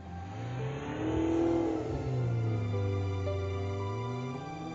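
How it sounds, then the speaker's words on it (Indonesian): A car drives up with a steady mid-pitched engine hum that rises and falls smoothly as it approaches, moderately close and continuous, no talking. "Katanya ini mobil self-driving paling canggih"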